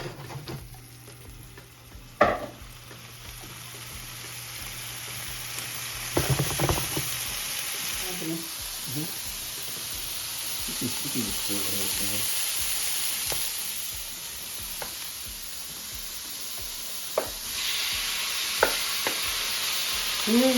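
Chopped Brussels sprouts sizzle steadily in a hot pan, broken by a few sharp knocks and scraping stirs, with a little muffled talk in the middle.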